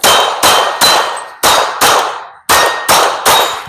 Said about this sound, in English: shooting to the right